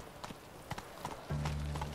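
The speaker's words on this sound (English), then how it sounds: "let me get on my horse" Horse hooves clip-clop in Witcher 3, a few uneven hoofbeats followed by a louder sustained thud-and-rumble as the horse breaks into a run.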